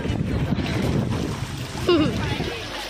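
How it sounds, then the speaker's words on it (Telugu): Strong sea waves surge at Om Beach, a steady wash of surf and wind noise throughout, with people talking over it. "ఆడ చూడండి ఎంత గట్టిగా వస్తున్నాయి అలలు."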